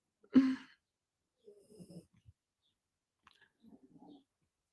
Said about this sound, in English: My dogs are snoring around here.